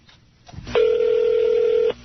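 A telephone dial tone sounds steadily and clearly for about a second after a brief rustle as a call is placed, heard alone without talk.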